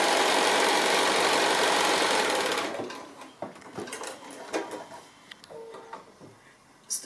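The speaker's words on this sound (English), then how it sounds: "So stitching them into a row" A sewing machine stitches 2 1/2 inch fabric strips into a row with a 1/4 inch seam, running loud and steady for about three seconds before stopping, followed by quieter handling and fabric sounds.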